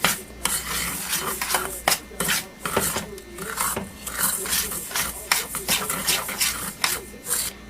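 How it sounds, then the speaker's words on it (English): Cheesecake crust crumbs are stirred together with melted butter and sugar in a bowl, giving repeated gritty scraping and rasping strokes, close and steady, with occasional sharper scrapes. "Get all that melted butter and sugar mixed into it."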